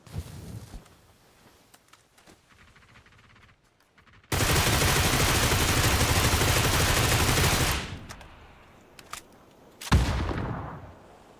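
Sustained automatic gunfire from the video game PUBG, a loud continuous burst lasting several seconds, preceded and followed by scattered single shots and quieter game ambience.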